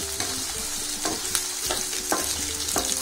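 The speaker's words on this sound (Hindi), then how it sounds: "अब मिलाएंगे हम इसमें आलू, फटाफट से भूनेंगे और इसको मिलाते जाएंगे बिल्कुल" Potatoes fry in a pan for vegetable pulao, a constant crackling sizzle broken by regular scraping strokes of a spoon roughly every half second, close and with no voices.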